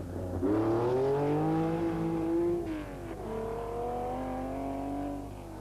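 An elderly Porsche rally car powers along a stage of the 1981 Circuit of Ireland Rally, its engine loud and close with a rising then steady note, dipping briefly midway before pulling hard again.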